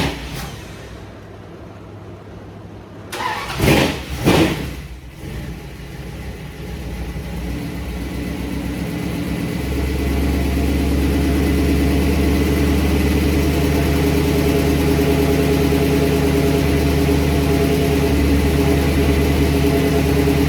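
A 1973 car with a repaired exhaust leak cranks and catches with a couple of quick revs, then settles into a steady, loud idle that grows slightly fuller as it runs.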